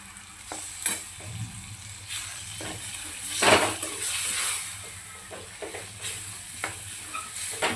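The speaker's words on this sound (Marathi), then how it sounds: "मसाला छान परतून झाला, त्यामध्ये मी आपली शिजलेली डाळ ॲड करते" Cooked chana dal is added to a sautéed masala and stirred in a pan, giving a low sizzle with intermittent scraping spoon strokes and one louder clatter midway, close and moderately loud.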